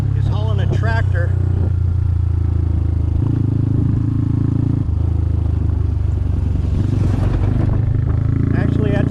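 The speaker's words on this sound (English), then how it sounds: "Now here comes a vehicle that is hauling a tractor." A truck hauling a tractor-like machine passes along a rural road between Thai rice paddies, its heavy engine rumble and rattling clatter loud and steady under a closer small motorcycle engine, with someone talking over it.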